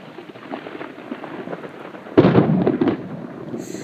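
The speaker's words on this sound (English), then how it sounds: "And that's lightning, folks." Thunder follows a lightning strike under a mostly clear sky: a sudden deep rumble bursts out of a steady outdoor hiss and rolls heavily for under a second before fading back into the background.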